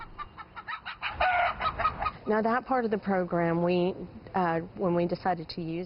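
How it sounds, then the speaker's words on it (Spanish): Chickens cluck on a food bank farm that also raises turkeys, the calls loud and close, with bursts of fowl noise mixed among overlapping voices talking throughout. "En la granja también se crían pavos y pollos."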